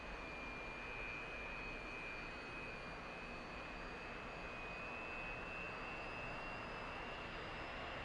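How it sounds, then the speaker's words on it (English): A distant Sukhoi Su-27 jet with Saturn engines roars steadily with a thin high whine running throughout, no voices, during a Ukrainian Air Force demonstration training flight. "Fantastic noise really does come out these Saturn engines."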